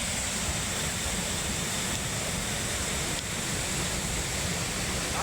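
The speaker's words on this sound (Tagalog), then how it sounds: "Ito po yung Dawson Falls ng Mount Taranaki." Dawson Falls on Mount Taranaki, New Zealand, roars as a steady, dense broadband rush of falling water that holds an even level for the whole stretch, close and continuous with no voices.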